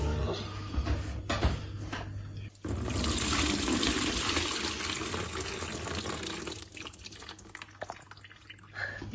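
Water floods into an apartment in a steady loud rushing gush that fills most of the stretch, with dripping, splashing and a few knocks before and after and faint voices in the background.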